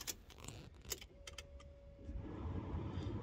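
Land Rover Discovery 3 ignition switched back on, with faint jangling keys and clicks at first, then a thin steady electronic tone and a rising low hum as the systems power up, all fairly quiet.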